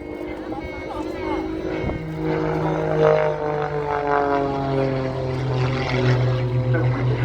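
Propeller aircraft droning overhead at the Duxford summer airshow, a steady harmonic engine hum that rises and holds with a slight pitch shift as it passes, with crowd voices and chatter mixed in.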